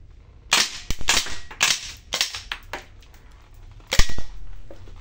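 A KJW M4 gas blowback airsoft rifle fitted with a King Arms hop-up fires a handful of sharp, close, loud cracks, spaced irregularly in short bursts, each with a brief metallic bolt clack, and no one talking.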